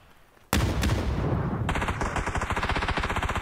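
Rapid automatic gunfire in the video game PUBG erupts suddenly and fills the clip with loud, close bursts. It settles into a fast, steady rattle of shots.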